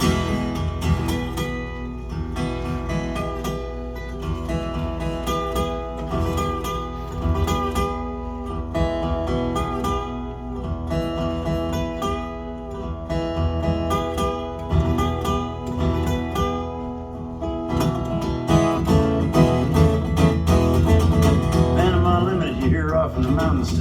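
A wailing train whistle imitated on an instrument during a live concert at the Sellersville Theater, Pennsylvania, sustained chords over a steady chugging rhythm, loud and continuous with no talking.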